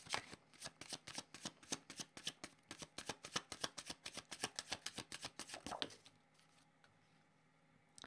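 Oracle cards are shuffled by hand in a quick run of crisp, rhythmic riffles and flicks, close and clear, for about six seconds before stopping, with faint background sound afterward.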